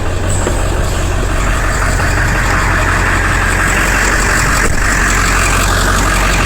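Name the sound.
7.3 diesel truck engine idling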